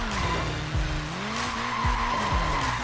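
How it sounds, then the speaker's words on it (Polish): Car drifting sideways with tires skidding and squealing in Forza Horizon 4, a steady high-pitched screech over engine drone with several sharp thumps of collisions, loud and close, no talk. "Po prostu jadę bokiem, coś rozwalam."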